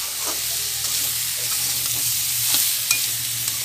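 Brinjal sautés in a hot pan for a village-style brinjal and small fish curry, giving a continuous sizzle with stirring scrapes close by.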